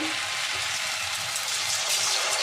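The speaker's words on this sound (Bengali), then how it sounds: "দেখুন বন্ধুরা, তেল গরম হয়ে গেছে। এবার আমি কুরকুরেগুলো ছেড়ে দেবো" Homemade flattened-rice kurkure snacks fry in hot oil with a steady, dense hiss and soft bubbling, close and even throughout.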